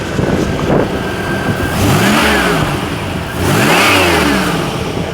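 A 1984 Buick Grand National with a 2.5-inch Hooker exhaust revs twice from idle, each throttle blip rising into a loud roar and falling back, close and loud.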